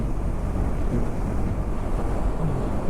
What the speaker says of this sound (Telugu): సైలెంట్ వెళ్ళాలంటే ఓన్లీ గాలి సౌండ్ తప్పితే మనకి ఏమి వినిపించదు